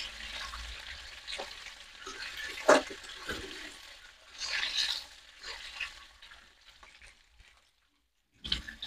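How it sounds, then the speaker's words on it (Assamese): Vegetables frying in hot oil in a pan, a steady crackling sizzle with stirring scrapes and a few louder pops, then a short pause before the sizzle returns. "তেল পুৰা গৰম হৈ গ'ল। এতিয়া এইকেইটা অলপ ভাজি দিওঁ।"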